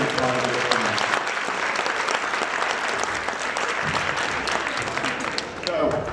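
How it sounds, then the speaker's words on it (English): Audience applause at a middle school winter concert, steady and moderately loud with crowd murmur mixed in, and a few band instrument notes sounding faintly at the start and end. "So I want to give them a round of applause for being a part of this."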